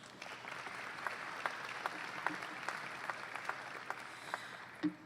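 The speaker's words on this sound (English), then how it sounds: "So give yourselves a round of applause" Audience applause at an honor society induction ceremony for a collegiate scholars chapter, a steady patter of many hands clapping at moderate distance with a few sharper claps standing out, ending in a louder burst.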